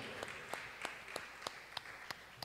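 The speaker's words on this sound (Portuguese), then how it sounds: "Dê um lindo aplauso ao Senhor." A church congregation applauds, a soft, distant spread of clapping broken by a few sharper, evenly spaced claps that stand out from the rest.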